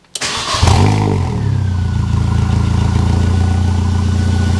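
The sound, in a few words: Mini Cooper R50 engine cranking over and starting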